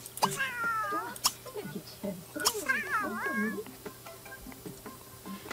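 Cats in the video game The Sims 3 meowing and yowling in several drawn-out, wavering calls over about three seconds, followed by quieter ticking game sounds, close and clear.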